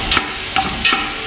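Diced onions sautéing in a pan with bacon for homemade red cabbage, giving a loud, close, steady hiss with a few brief stirring scrapes over it.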